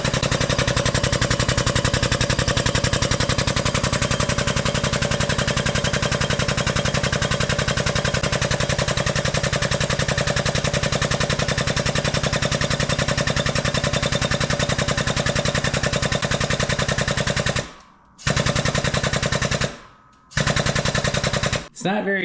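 The air pump driving a Pittsburgh 20 ton hydraulic press, fed by a hooked-up air compressor, runs as a loud, rapid, steady pulsing chatter before cutting out in several short stops and restarts near the end.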